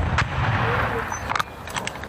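A howitzer fires a shot at an artillery position, a loud broadband blast with a sharp crack near the start, then a heavy rumbling roar that fills the whole stretch with another burst later on.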